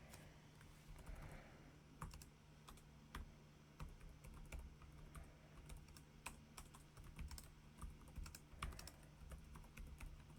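Steady typing on a computer keyboard while entering information on a second page, with quick irregular key clicks running through the whole stretch over a low steady hum, no voices.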